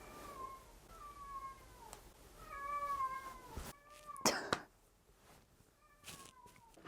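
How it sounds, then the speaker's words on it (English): A cat meows oddly while playing with a lizard, a string of several strained, wavering, drawn-out meows at close range, fairly faint, with a couple of sharp clatters in between. "So if you hear a cat meowing really weird, it's because he's playing with a lizard."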